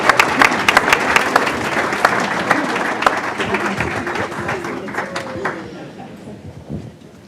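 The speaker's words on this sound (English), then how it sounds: "And big applause for all." Applause at a Hopkins school board meeting honoring student award recipients, a room of hands clapping steadily with some sharp individual claps, gradually tapering off over several seconds.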